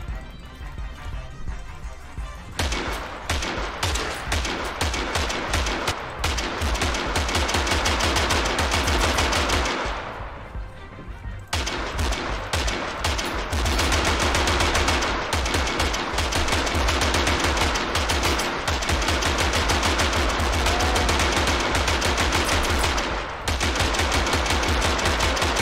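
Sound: Gatling guns firing in a video game battle

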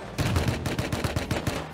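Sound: gunfire in Rust video game

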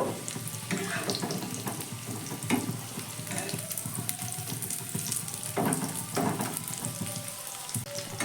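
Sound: snacks deep-frying in oil

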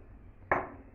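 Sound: water poured into saucepan with amla

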